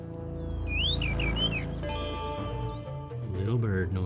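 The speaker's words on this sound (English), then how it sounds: "Little bird noises." Small bird chirps in the video game Star Fox Adventures at CloudRunner Fortress, a few rising tweets over game music and someone talking throughout.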